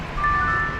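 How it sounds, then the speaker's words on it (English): Brief twinkling bell chime marking a new member on a live plane-spotting stream at Dallas Love Field, a high, thin ringing tone over loud, steady rumbling background noise. "You hear those little twinkling bells signaling the arrival of a new member."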